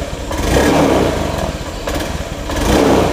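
A motorcycle with a newly replaced rotor sputters and misfires when throttled in a repair workshop, giving a loud, close, uneven engine roar that surges and dips.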